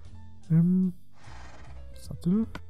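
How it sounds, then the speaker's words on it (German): A horse in the Minecraft video game gives two short, whinny-like calls a couple of seconds apart, with a voice faintly present in the background. "Das sieht aus wie ein Pferd, ne?"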